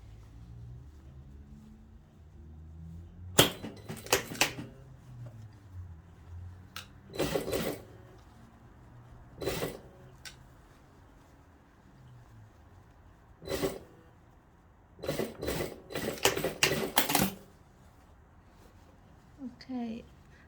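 A sewing machine re-stitching the top stitching on a long formal dress being taken in, running in short separate bursts with quiet pauses between them, while a person talks now and then.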